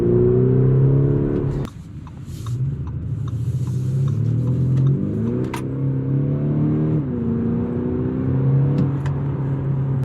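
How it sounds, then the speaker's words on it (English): Inside a 2022 Audi SQ5 Vorsprung V6 SUV, the engine note rises as the car accelerates, with synthetic sound added to the cabin, a steady droning tone that climbs in pitch in steps as the gears change. "there is fake sound being pumped into here, but I actually like it. I like the sound of this car."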